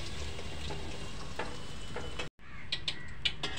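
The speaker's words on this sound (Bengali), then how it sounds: "আলুগুলো ভাজা হয়ে গেল" Potatoes fry in a pan with a steady, close sizzle that cuts out briefly, then resumes with sharper crackles and pops.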